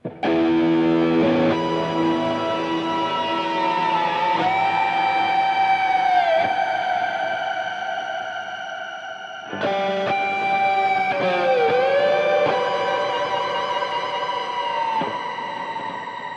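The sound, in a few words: guitar with huge reverb from Eventide H9, tingling high pitch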